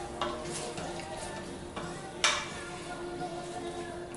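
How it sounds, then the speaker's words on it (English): Sauce with red pepper flakes stirred in an Instant Pot on the sauté setting, a spoon scraping and tapping the metal pot over a low simmering sizzle, with a couple of sharper clinks. "Again, stir that all up."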